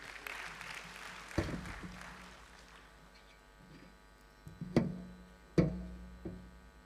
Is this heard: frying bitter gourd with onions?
no